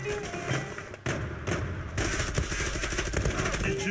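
Rapid bursts of gunfire crackle through a dense, noisy mix in the game Zula, with a brief dropout before the shooting resumes more continuously.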